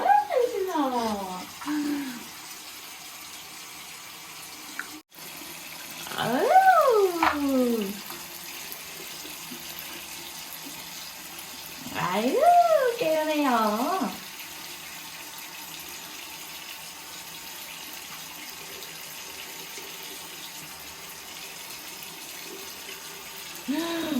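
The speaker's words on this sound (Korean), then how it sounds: "물을 받아주도록 하겠습니다." A bathroom tap runs steadily, filling water for washing a baby's hair. The hiss continues as a constant background while voices talk over it at intervals.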